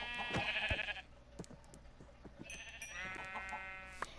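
Sheep in Minecraft bleat in two long, nasal calls, one at the start and another after a short pause, with soft clicks and thuds from gameplay in between and no talking.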